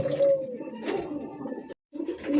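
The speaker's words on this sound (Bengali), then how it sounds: "4500 Hungarian house pigeon Hungarian house একদম" A Hungarian House pigeon gives close, rolling coos in a few drawn-out phrases, with a short silent break before the last coo.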